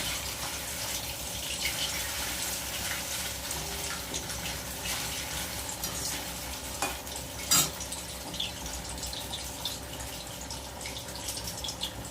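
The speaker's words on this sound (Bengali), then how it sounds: "পনিরগুলো হালকা করে ভেজে নিলাম এই তেলের মধ্যে দিয়ে দেবো" Paneer pieces frying in hot oil, a steady close sizzle and bubbling that runs throughout with a few brief clinks and stirring knocks.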